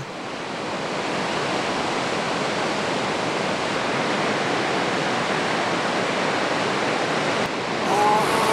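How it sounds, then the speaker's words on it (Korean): Steady, full roar of Laja Falls, a waterfall fed by a river rising in the Andes, heard close and loud as a dense unbroken wash of falling water with no pauses. "라하 폭포는 안데스에서 발원한 강이 만들었다."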